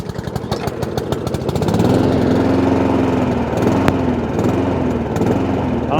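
A Honda IZY petrol lawn mower engine with a leaking carburetor sputters into life, its rough firing pulses settling into a loud, close, steady run with no voices.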